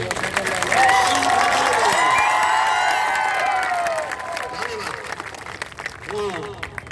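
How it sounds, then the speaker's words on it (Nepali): Audience at a Nepalese protest-movement gathering claps steadily and loudly for several seconds, with cheering voices mixed in, before the applause thins out toward the end. "तल बस्ने साथीहरूले ताली बजाएर यी साथीहरूलाई धन्यवाद दिन अनुरोध गर्दछु"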